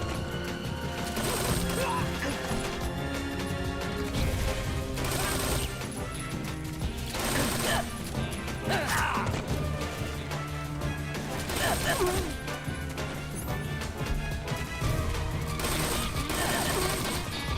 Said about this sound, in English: Loud gunshots.